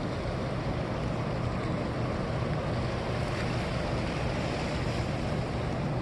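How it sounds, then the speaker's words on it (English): Water gushing through the open gates of Conowingo Dam, a loud, constant broadband roar with no breaks, steady throughout and heard from nearby without any talk. "See the water gushing through."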